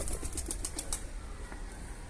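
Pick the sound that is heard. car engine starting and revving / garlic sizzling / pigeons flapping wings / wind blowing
pigeons flapping wings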